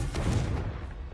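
A Confringo spell explosion in the video game Hogwarts Legacy, a single loud booming blast that bursts quickly and then rolls off into a fading rumble, close and heard on its own.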